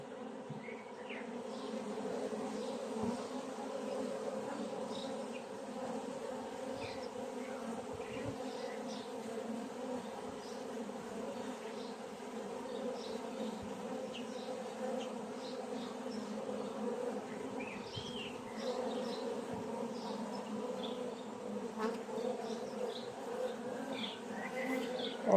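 Honeybees hum in a steady, dense buzz at a hive holding newly hatched queens, with scattered individual bees droning close by throughout.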